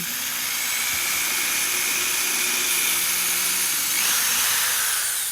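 A small power drill boring a hole through a handmade Christmas ornament, a steady high whine held for several seconds and rising slightly in pitch toward the end.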